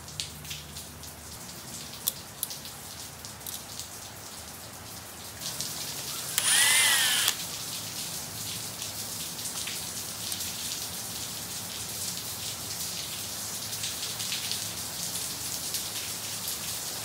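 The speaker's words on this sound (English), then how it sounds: "Now I'm gonna have to wait for this rain to subside a little bit because it's getting kind of noisy." Heavy rain pours steadily throughout as a dense, hissing wash, loud and close, with a brief sharper burst partway through and no talking.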